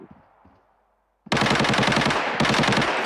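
Automatic gunfire from the shooter game Arena Breakout erupts after a brief quiet start, a loud, rapid, continuous stream of shots with a tiny break near the end, heard close.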